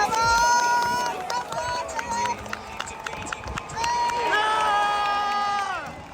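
A crowd roars at British Grand Prix qualifying, a broad continuous cheer with nearby voices mixed in. High engine whines rise and fall as cars pass.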